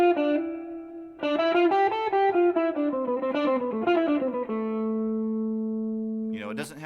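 A distorted electric guitar with effects runs up and down a natural minor scale in a metal practice setting, the notes clear and close, ending on a sustained held note and a brief noisy scrape.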